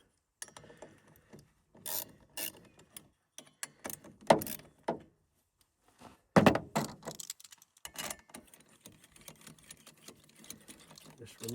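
Two 10mm hex-head bolts being undone on a Stihl line trimmer clutch housing (KM94/FS94), with scattered ratcheting clicks, scrapes and metallic rubs in short bursts, close-up and moderately loud, separated by quiet pauses.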